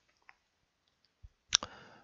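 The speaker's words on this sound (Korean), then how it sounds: "마우스 오른쪽 키 누른 다음에" A few soft, sharp computer mouse right-clicks in a quiet room, isolated taps followed by a slightly louder double click.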